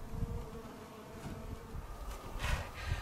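Honeybees buzz at an opened hive in Colorado after winter, a steady, faint, close hum of many insects with a few louder passes near the microphone.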